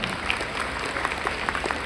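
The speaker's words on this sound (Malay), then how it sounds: "Kita pantas beri tepuk tangan untuk semua." Steady applause from an audience gathered for a speaker event, dense and continuous clapping with no voices on top, filling the short moment evenly at a moderate level.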